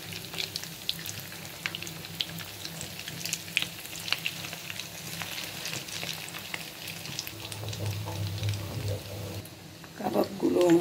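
Fish kebabs sizzle steadily in hot oil in a frying pan, a close, continuous crackle with occasional scraping and stirring sounds, swelling a little louder toward the end.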